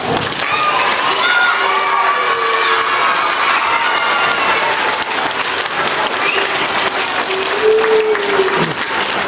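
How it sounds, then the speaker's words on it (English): An elementary school audience of children applauds and cheers for a visiting performing group, with sustained clapping throughout and voices shouting and calling out over it, one rising whoop near the end. "And give them one last big round of applause."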